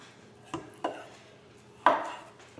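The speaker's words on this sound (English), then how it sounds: "So what I do with a butternut squash is I cut it into easy-to-use sections" A kitchen knife cutting a butternut squash into sections, three distinct chopping thuds against a cutting board, close and fairly quiet, with pauses between strokes and no talking.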